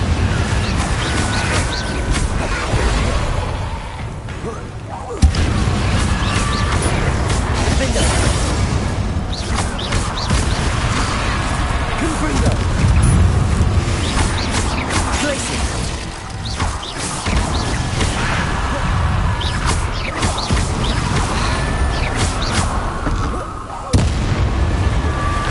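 Repeated explosive blasts from Confringo spells in Hogwarts Legacy, heavy booming bursts and crashing impacts over a dense, continuous loud game soundscape, with a few sharp peaks standing out.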